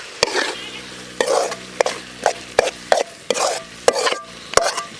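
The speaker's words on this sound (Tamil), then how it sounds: "இன்னும் ஒரு 2 நிமிஷம் மட்டும் இந்த மாதிரி வதக்கி விடுங்க, சரியாக போகும்." Carrot halwa sweetened with palm jaggery instead of sugar is stirred and sautéed in a pan, with repeated sharp spoon scrapes and knocks against the pan over a soft background sizzle, close and fairly loud.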